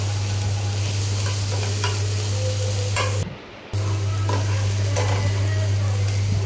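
Tomatoes sizzling in a pan for a chicken lunch dish, a steady close frying hiss with occasional stirring scrapes over a constant low hum, briefly cut off midway before resuming.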